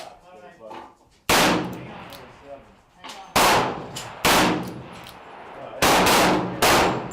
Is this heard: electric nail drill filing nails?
no